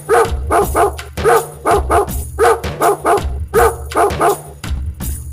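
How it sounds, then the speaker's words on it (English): A dog barks in a rapid, steady series of loud, close woofs and yips, about a dozen in all, with no other sound around them. "It's a dog."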